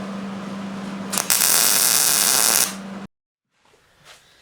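A metal flange is being welded onto a garden hose reel, making a harsh, loud electric buzzing crackle that runs for about three seconds, cuts off abruptly and is followed by near silence and faint handling noise.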